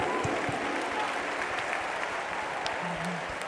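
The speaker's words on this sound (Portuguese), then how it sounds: "pode aplaudir." Sustained, dense applause from a large audience at a Brazilian women's church congress, steady and loud throughout, with faint voices mixed in.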